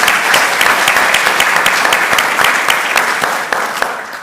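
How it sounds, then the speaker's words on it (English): An audience at an ERDC homecoming and 25th anniversary celebration gives a panel a round of applause: dense, loud, steady clapping throughout, with a few sharper individual claps standing out near the end. "Let's give them one more round of applause."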